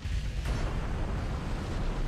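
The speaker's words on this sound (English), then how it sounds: "Yep, their secondaries are starting to fire." Naval gunfire in the Ultimate Admiral: Dreadnoughts warship game, with 5-inch casemate secondary guns opening up: a continuous, dense low rumble of blasts and booms with no clear gaps, loud throughout.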